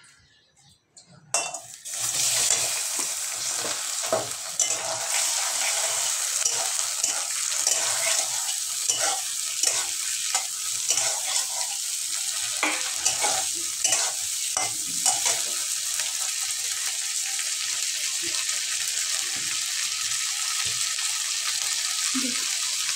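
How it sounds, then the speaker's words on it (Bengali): Shrimp, about 250 grams, frying in hot oil in a wok, a steady loud sizzle that starts after a brief quiet moment and continues throughout, with occasional stirring scrapes and clinks of a utensil against the pan. "আমি এবার চিংড়ি মাছগুলো ভেজে নেব।"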